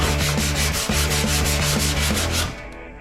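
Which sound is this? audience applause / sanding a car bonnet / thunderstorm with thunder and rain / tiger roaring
sanding a car bonnet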